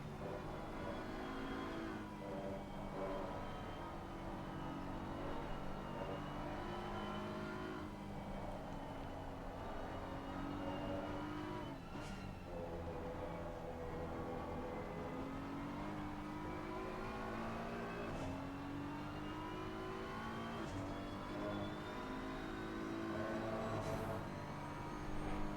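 Racing cars in a Le Mans-style racing video game at Circuit of the Americas, with a Porsche among them, droning steadily with engine whine rising and falling through gear changes, continuous and fairly loud, with no talking.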